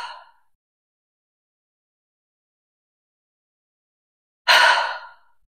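Exhaled breath during a prenatal Pilates exercise, a faint tail of one breath at the start then a single strong, close airy exhalation after several seconds of silence.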